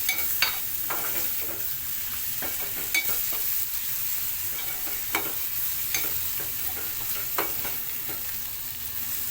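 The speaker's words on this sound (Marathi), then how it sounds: "कांदा टॉमॅटो टाकलेला आहे परतून घेते" Onion and tomato sautéing in a pan, a soft continuous sizzle broken by repeated sharp scrapes and clinks of a spatula stirring, close and fairly quiet.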